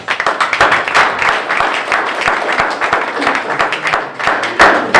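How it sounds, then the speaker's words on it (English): An audience at a film screening and discussion gives a round of hand claps, close and fairly loud, with uneven rhythm and a few louder swells, with no talk over it. "we can still give him a round of applause"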